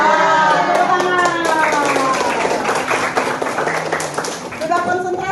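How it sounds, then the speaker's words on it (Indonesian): Students in a classroom clap their hands in a lively burst, the rapid claps running under a teacher's voice and chanting voices throughout. "Ya, tepuk tangan."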